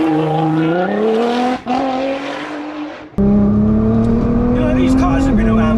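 A tuned 800 whp Nissan GT-R Nismo driven hard on a racetrack, its loud engine note climbing steadily through the revs with two sharp gear changes, heard from inside the car.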